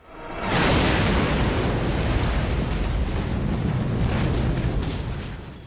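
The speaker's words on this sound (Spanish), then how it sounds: "capaz de generar una fuerte explosión" An explosive charge detonates with a sudden onset, then a sustained deep roar and rumble that lingers for several seconds before slowly fading.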